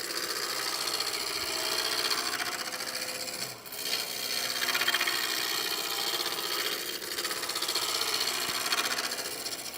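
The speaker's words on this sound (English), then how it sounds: "I don't want to go uphill with the roughing gouge" A roughing gouge cuts a spinning wooden vase on a lathe at fairly high speed, making a steady, close scraping rasp that runs almost unbroken, with one brief dip partway through.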